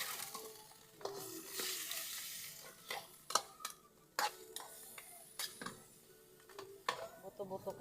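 A spoon stirs vinegar into food cooking in a pot over a wood fire, with scraping clinks and soft sizzling at an irregular rhythm, and a voice talks over it.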